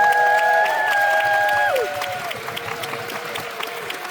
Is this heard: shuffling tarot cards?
no